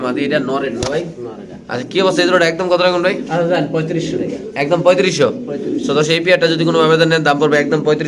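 Black Lahori pigeons coo steadily at a pigeon farm, their soft, repeated calls close by and mixed with people talking throughout.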